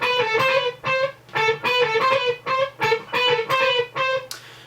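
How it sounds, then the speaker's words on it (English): Electric guitar notes played through a dotted eighth note delay, so echoes fall between the picked notes, giving a rhythmic chain of bright repeated tones that ends in a short scrape. "this is just what the guitar sounds like by itself, and then with a delay"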